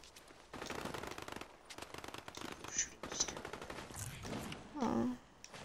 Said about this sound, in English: are you shooting people?